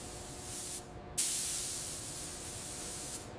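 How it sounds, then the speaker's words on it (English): Robot arm spraying custom pearl white paint as a fine mist onto a private jet, heard as a steady hiss that cuts off briefly and then resumes with a sharp burst, moderately quiet in a factory setting. "Custom pearl white applied by fine mist spraying."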